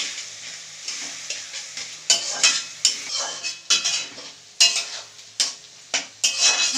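A utensil stirs and scrapes fried vegetables with onion in a pan for egg chowmein. About a dozen sharp, irregular scraping strokes sound close up over a soft, steady sizzle.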